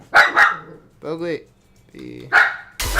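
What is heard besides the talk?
dog barking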